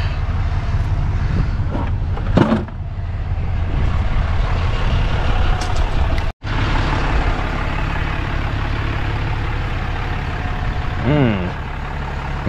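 Truck engine idling and rumbling up close with a low, steady drone, joined by brief beeps and clanks, a sharp momentary dropout mid-way, and a short run of rising beeps near the end.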